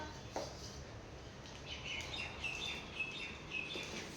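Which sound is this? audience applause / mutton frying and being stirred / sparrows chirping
sparrows chirping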